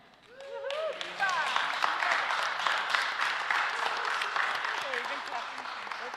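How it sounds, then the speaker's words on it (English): Audience clapping after a resolution presentation at a legislative session, sustained applause rising quickly and continuing throughout, with voices speaking and calling out over it. "We're clapping for you all around."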